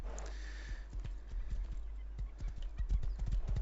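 Horse hooves clip-clop at a gallop in the survival video game Rust, a steady run of fairly close hoofbeats heard alone with no talking.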